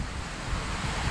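River Wharfe flowing outdoors near a hydroelectric building, a steady broadband rush of moving water with wind noise on the microphone, continuous and fairly close.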